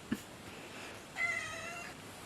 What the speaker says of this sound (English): Oh look, a kitty.